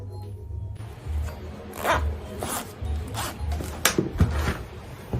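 A zipper is pulled to close an Ankara fabric tote bag, giving a close, continuous rasping run with several louder scratchy pulls toward the end.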